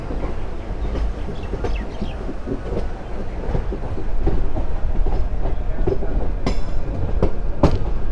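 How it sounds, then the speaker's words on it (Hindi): Local train running from Gurugram toward Delhi, heard from inside as a loud continuous rumble with rhythmic clickety-clack of wheels on the rails, building as it gathers speed, plus a few brief squeals late on. "अब मुझे नहीं लगता कि अब ये ट्रेन कहीं रुकेगी, धीरे धीरे ये बढ़ती जा रही है"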